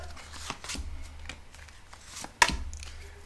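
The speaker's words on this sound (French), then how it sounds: "Alors, je tire 2 cartes." Two oracle cards drawn from a deck make soft, quiet rustles and slides, then one sharp snap of a card near the end.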